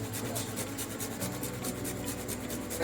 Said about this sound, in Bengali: এবার আমি এর ভেতরে একটু ঘষে নাটমেগটা দিয়ে দেবো